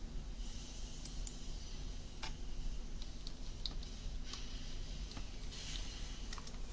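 Fingers typing a web address on a computer keyboard, a sparse run of light key clicks over a steady background hum, no talking.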